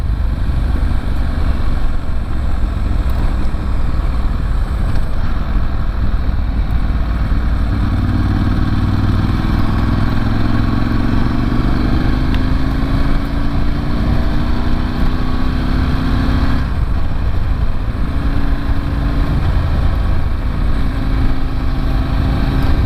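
Ducati 916 motorcycle engine running steadily while riding, a loud continuous drone with rising and falling tones as the revs shift, heard alone with no talk.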